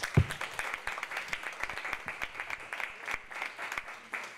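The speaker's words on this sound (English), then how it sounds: "So let's give our panelists a round of applause." An audience at an Earth Week panel on food production and farming claps for the panelists, with scattered, fairly quiet hand claps heard at a slight distance and no talking.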